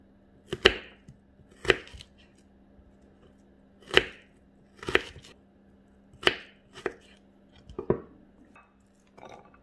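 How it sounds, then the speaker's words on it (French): A knife slices onions into rings on a board, making about eight sharp, separate chops spaced a second or so apart, quiet and close with no talking. "Je coupe les oignons en rondelles comme ça"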